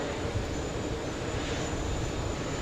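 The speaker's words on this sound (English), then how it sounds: "we have the Spanish Iberia 6251 flying in from Madrid" Iberia airliner on a six-hour flight from Madrid arriving at JFK, a continuous broadband engine roar from the aircraft, steady and fairly close with no talk.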